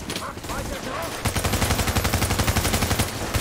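Gunfire in Tom Clancy's The Division, shotgun fire in a firefight: after a second of quieter background, a loud, rapid, evenly spaced string of shots runs on without pause.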